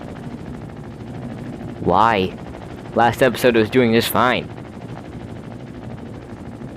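A helicopter in the building game Trailmakers gives off a steady, even rotor drone that runs through the whole stretch, while someone speaks briefly over it.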